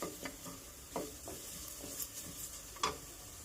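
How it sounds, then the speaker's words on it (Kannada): Coriander seeds and mustard seeds dry-roasting in a pan over a low flame, with intermittent stirring scrapes and faint crackles repeating every second or so over a soft steady sizzle, close and moderately quiet. "ಇವೆಲ್ಲ ಲೋ ಫ್ಲೇಮಲ್ಲಿ ಹುರ್ಕೋಬೇಕು. ಸ್ವಲ್ಪ ಫ್ರೈ ಮಾಡ್ಕೋಬೇಕು, ಗಮ್ಮನ ತನಕ, ಹಸಿ ವಾಸನೆ ಹೋಗೋ ತನಕ."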